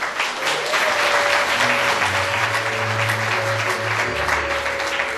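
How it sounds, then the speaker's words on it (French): An audience at an eighth-anniversary gathering claps loudly and steadily in a dense, continuous wash of applause, with a few voices and a low tone underneath. "applaudissez s'il vous plaît"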